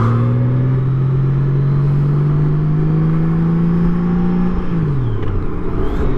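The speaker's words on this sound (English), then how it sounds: "So I'm just going to shut up and let you hear the acceleration." A Honda Gold Wing flat-six motorcycle accelerates hard in sport mode on a highway, its engine tone rising steadily for several seconds before a gear change, loud and close with wind rumble and no talking.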